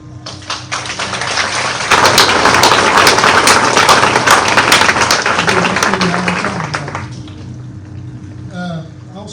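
At a Robbinsville Wrestling R-Club awards banquet, a room of guests breaks into dense, loud applause that swells for several seconds and then tapers off as a speaker resumes talking.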